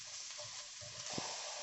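Onions go into a pan and are stirred while frying, giving a faint, even sizzle. Soft spatula scrapes and bumps sound through it, with no talking.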